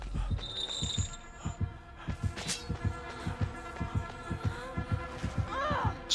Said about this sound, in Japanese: 心音聞こえた